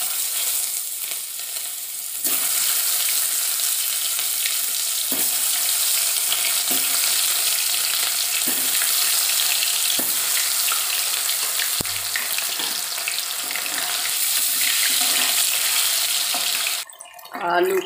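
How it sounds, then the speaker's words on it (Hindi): Potatoes frying in hot oil in a kadhai on a gas stove for dum aloo, giving a steady, close, loud sizzling hiss that starts abruptly after a quiet opening and runs almost to the end. "उसमें तेल डाल लिया। अब हम इन आलू को फ्राई करेंगे।"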